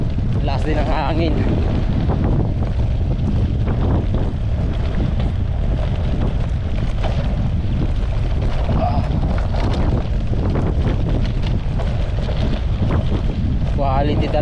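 Strong wind buffets the microphone on a long-distance gravel bike ride, a loud, continuous roaring rush that fills the whole stretch with constant low rumble.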